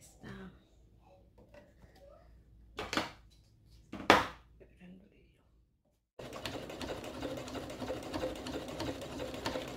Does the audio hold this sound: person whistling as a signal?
no